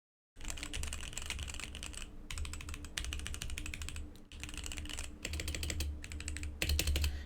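Steady, fast typing on a Gamakay GK87 mechanical keyboard fitted with a foam mod: continuous close clacking keystrokes in bursts, with brief pauses between runs and a slightly louder flurry near the end, no voices.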